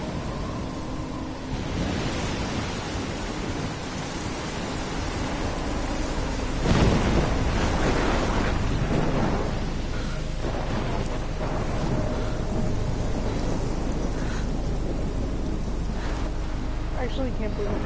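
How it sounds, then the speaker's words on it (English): A video game thunderstorm near a lighthouse, with steady heavy rain hiss throughout and a loud rolling thunderclap partway through, rumbling on before fading back into the rain. "Girl, it's just a storm."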